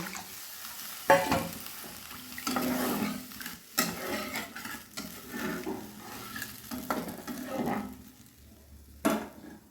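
Water is poured into spice paste frying in a pan for a Bengali sarpunti fish curry, making loud bursts of sizzling hiss with stirring and scraping between them, up close and with no talking.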